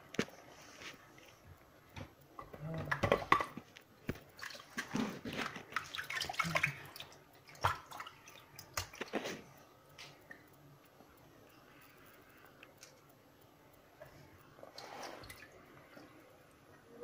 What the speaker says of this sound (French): Donc là, je vais encore les rincer.